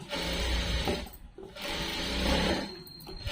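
A sewing machine runs steadily while stitching a dress, its close, continuous mechanical whir slowing briefly between two long bursts of sewing.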